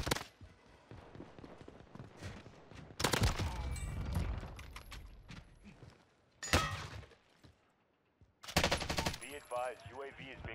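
Bursts of automatic gunfire in Call of Duty: Warzone from a PP19 Bizon submachine gun, loud rapid volleys in several separate clusters with short gaps of quiet between them, crackling and dense.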